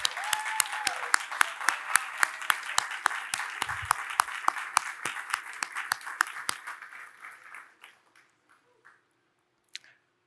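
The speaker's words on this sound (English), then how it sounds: "If you could stand up and just give them a round of applause." Audience applause at an awards gala, honouring a mother and stepdad: a dense run of sharp, close claps that tapers off and fades into near silence, with a faint voice and a final isolated clap near the end.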